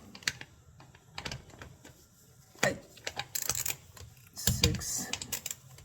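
Ratchet wrench clicking as power head bolts are tightened crisscross on a Honda BF25/30 outboard motor during restoration, with rapid close clicks in short bursts and some clanking of tools.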